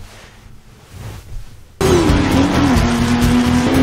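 A race car engine is pushed hard in the Ford v Ferrari film. After a quiet lead-in it bursts in as a loud, sustained high-revving roar with rising and falling pitch, like a car passing close.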